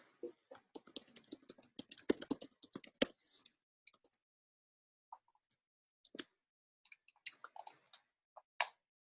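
Typing on a computer keyboard, a quick burst of clicking keystrokes that thins into scattered, irregular taps with pauses, close and fairly quiet.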